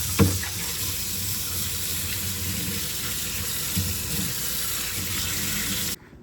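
Tap water runs steadily into a sink as an ice maker scoop is washed with mild soap and warm water, a continuous hissing flow with a couple of brief clunks, cutting off abruptly near the end.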